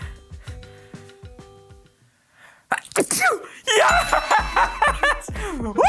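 A single loud sneeze close by, preceded by a voice and followed by excited cheering and laughter from a nearby person.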